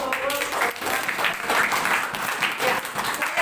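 A crowd of students clapping on a campus, an uneven burst of applause with some individual claps standing out and voices chattering underneath throughout.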